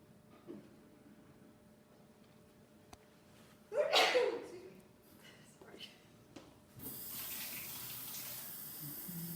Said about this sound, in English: there's good water flow, there's definitely good steam coming out